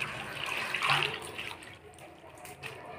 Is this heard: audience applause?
no